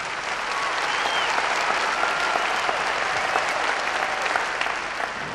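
Sustained audience applause fills a hall at a Russian music award show, a dense, steady roar of clapping with no break.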